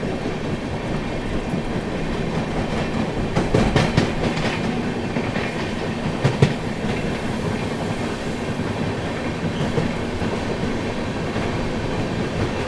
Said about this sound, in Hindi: अच्छी खासी रफ्तार बना लिया विक्रमशिला ने।